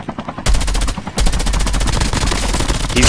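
Rapid automatic gunfire in the Call of Duty Mobile battle royale mode, loud sharp bursts of closely spaced shots after a brief pause, continuing to the end with no talk.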